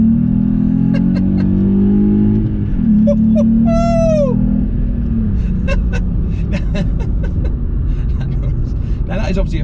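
A 2019 Volkswagen up! GTI's engine revving briefly with an artificial, synthesized engine note, a rising then falling drone followed by the road hum of the hot supermini.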